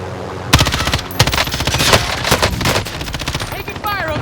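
Rapid automatic gunfire rattles in loud bursts during a Call of Duty Warzone match, with the R9-0 Dragon's Breath shotgun and Origin guns in play, and other shots and game effects mixed in; voices are heard talking over it.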